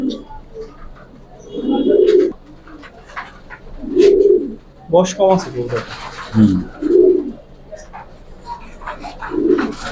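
Silver pigeons offered for sale coo in low, throaty bursts roughly every two seconds, close and fairly loud, while someone talks over and between the calls.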